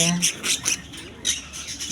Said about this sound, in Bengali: আমার কাছে আছে আলবিনো ককাটির পাখি